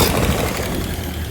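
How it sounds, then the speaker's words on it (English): A Model A car engine idles nearby with a rapid, even low-pitched chugging pulse, fairly loud and steady across the brief moment with no talking. "Nice idle. Look at that engine run."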